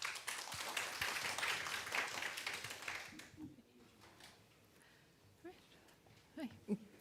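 A symposium audience gives warm applause, a steady, moderately loud round of clapping for about three seconds that then dies away, leaving quiet room noise and a few faint voices.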